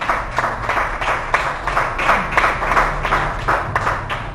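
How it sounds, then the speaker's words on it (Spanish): A church congregation at a Spanish-language worship service bursts into sustained, loud applause, many hands clapping steadily together with a rhythmic pulse throughout. "Demos un aplauso a nuestro Señor."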